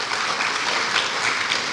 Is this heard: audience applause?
yes